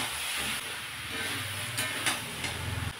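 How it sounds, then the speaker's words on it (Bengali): Mixed vegetables sautéing with ginger garlic paste in a pan, giving a steady close sizzle and hiss throughout, with a few louder spits and a low stirring rumble. "আদা রসুন বাটা দিয়ে ভালো করে কষিয়ে নেব।"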